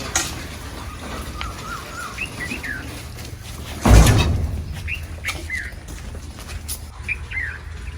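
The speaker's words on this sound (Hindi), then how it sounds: "हाँ, कोयल आई हुई है जी" A koel calls from a berry tree amid other birds in a rural outdoor setting: repeated rising whistled notes, moderately distant, over a steady background hiss, with a loud thump or rustle midway and no talking.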